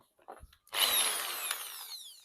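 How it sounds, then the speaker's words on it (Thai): An electric drill whirs up loudly and keeps running in one steady burst, driving screws into a lamp base made from a fan base, after a few faint knocks. "ผมก็จะเอาสว่านเนี่ย สว่านไฟฟ้า"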